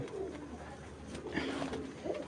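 Racer pigeons give soft, low cooing in a few short bursts, close by, over a steady low background hum with faint room noise.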